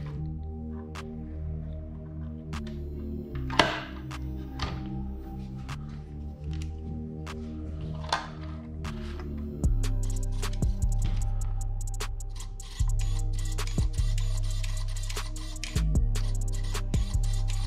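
A Tetra18 K1 6x6 RC crawler runs after being powered on, its small motor giving a steady low hum that steps up in level partway through, with scattered ticks and clicks from the micro servo and drivetrain, close and without talk.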